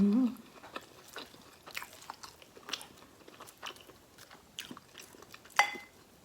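Close chewing and crunchy biting through a breakfast of rice with Thai-style fried omelette and chili paste, a steady run of small mouth sounds and bites with no talking.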